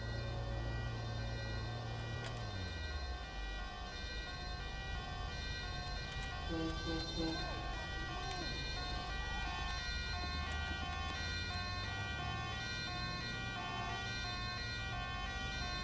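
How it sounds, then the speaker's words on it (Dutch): Ambulance and fire engine sirens in the video game GTA 5 wail steadily through the whole stretch, layered over game music and traffic noise, loud and continuous with no talk. "van links daar zo en van rechts daar zo komt de brandweer en de ambulance"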